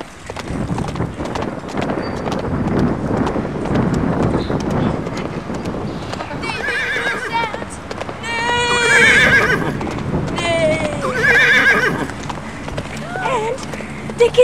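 Loud galloping hoofbeats with wind noise, broken by two shrill, shaky horse whinnies near the middle and later, while people talk over it.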